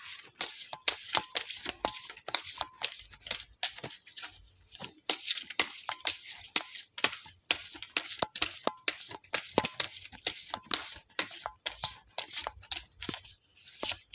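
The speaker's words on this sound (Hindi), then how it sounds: "तो चलिए मैं कार्ड्स यहाँ पर शफल करती हूँ" Tarot cards being shuffled up close: rapid, crisp flicking and riffling clicks in irregular clusters, fairly quiet and without speech.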